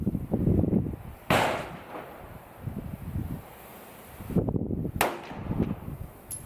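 A CZ Shadow 2 pistol fires 9mm Sig Sauer V-Crown rounds during standing accuracy shooting at a range. Two sharp, loud reports ring out several seconds apart over low background rustle.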